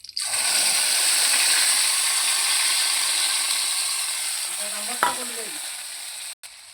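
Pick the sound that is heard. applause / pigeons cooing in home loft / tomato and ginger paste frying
tomato and ginger paste frying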